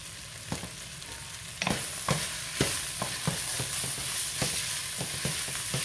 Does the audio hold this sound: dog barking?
no